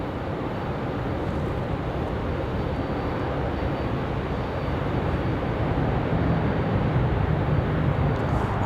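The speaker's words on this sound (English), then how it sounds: "our final plane is finally on the move" An airliner taxiing at Raleigh-Durham International Airport, a steady broad engine roar at moderate distance that holds evenly throughout with a faint low rumble late, no speech.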